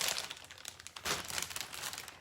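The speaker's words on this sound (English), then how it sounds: "I just put it in a plastic bag just so it stays soft" A plastic bag crinkles and rustles close at hand in a crafting session, in irregular, quiet bursts of crackling.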